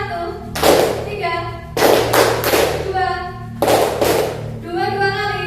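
Group handclaps from children in a classroom counting-clap game, three loud bursts of clapping with a few quick claps each, separated by someone speaking.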